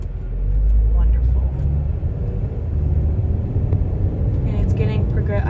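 A car with a suspected flat tire drives along with heavy low rumble and road noise filling the cabin, while a person talks over it.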